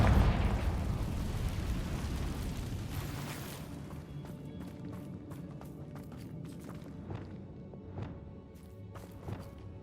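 A Confringo blasting spell goes off in Hogwarts Legacy, a loud rumbling explosion that fades over several seconds into quieter debris crackles and scattered footsteps-like thuds.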